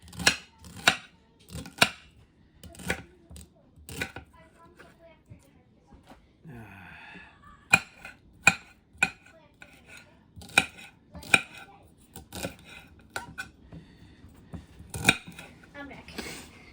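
Celery stalks cut on a board in a home kitchen: a series of sharp, close chops in irregular bursts, some quick and clustered, with short pauses and a brief stretch of voice between them.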